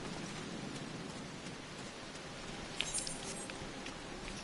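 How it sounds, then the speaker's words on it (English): Steady in-game rain pours down at Camp Drybone in Final Fantasy XIV, a constant even hiss of downpour with no talking and only a faint brief tick partway through. "There is an everlasting downpour here, and it's never anywhere else in Fanaland."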